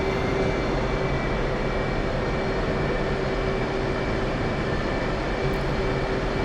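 F/A-18 Hornet jet engine in the DCS World flight simulator, a steady loud broadband roar with a constant whine, idling on the ground without change throughout.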